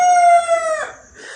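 A rooster crows once, loud and close, a long harmonic call that drops off at the end, followed by a faint fainter tail of sound.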